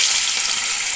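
Pieces of katla fish hitting hot oil, a loud, bright, continuous sizzle and hiss heard close up with no voices.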